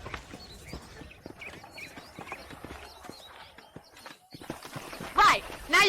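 Horses in the video game Red Dead Redemption clop about with busy, overlapping hoofbeats, then one lets out a loud, close neigh near the end.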